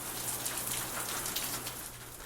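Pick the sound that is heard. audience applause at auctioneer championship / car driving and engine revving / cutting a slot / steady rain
steady rain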